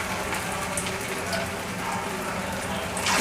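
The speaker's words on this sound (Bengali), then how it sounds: "একটি একটি করে তেলে দিয়ে দেব।" Bottle gourd leaf fritters sizzling in hot oil, a steady dense crackle and hiss that holds evenly throughout and swells slightly at the end as more batter goes in.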